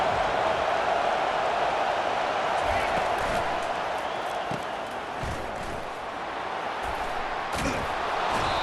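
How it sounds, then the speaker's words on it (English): Stadium crowd in the video game College Football 25, a dense continuous roar from a large crowd with scattered thumps and cheers, steady and loud throughout, with commentary voices over it. "Listen to the crowd energy here in the early going."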